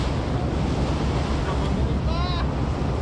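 Heavy water spray and crashing waves pounding a small coast guard boat under water cannon fire at sea, a loud continuous roar with wind buffeting the microphone throughout.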